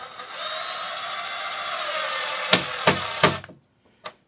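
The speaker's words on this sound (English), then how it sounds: "I'm screwing these in just so that it breaks the first veneer." A drill driver runs steadily driving No. 6 flat-head wood screws through the veneer of a wooden backdrop for an HO scale model railway layout, then stops with a few sharp clunks and a final short burst, close and alone.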